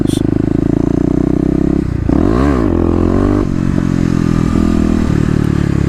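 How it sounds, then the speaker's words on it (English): A Kawasaki KLX250 motorcycle idles loud and close, then the clutch pops and the engine revs up and settles into a steady, rumbling run through the rest. "Get a couple warm-ups in here. Popping the clutch out a bit."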